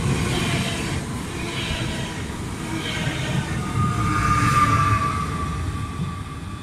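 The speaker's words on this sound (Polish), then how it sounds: "Wjeżdża pociąg osobowy relacji Katowice z Wardoń." A passenger train rolls into Katowice station with a steady, loud rumble of wheels on rails, a thin wheel squeal rising briefly near the end, with no voices over it.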